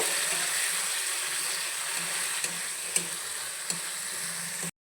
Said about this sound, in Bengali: আদা বাটা দিয়ে দেবো টমেটো কুচি অল্প জল দিয়ে দিচ্ছি দিচ্ছি এক চামচ লবণ আটা আমি ভালো করে এখন কষিয়ে নেব